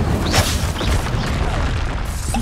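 A magical Exploso spell blast from Hogwarts Legacy booms in a dense, rumbling burst, loud and close, with a sharp crackle at the start and a sustained roar.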